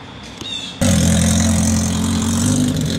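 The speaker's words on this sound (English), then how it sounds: "you can't even compare the way this revs with this ignition, the carburetor, the cams, the high compression pistons." A 1978 Kawasaki KZ1000 streetfighter motorcycle engine with high-compression pistons, cams and carburetor idles briefly, then snaps into a loud, sustained rev that holds steady and close for the rest of the moment.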